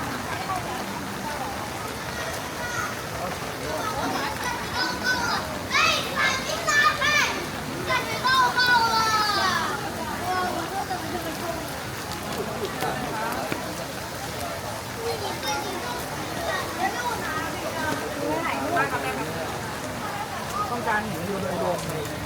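Heavy rain pours steadily over a historic district in China, a constant broadband hiss running throughout, with children's voices and chatter mixed in beneath it.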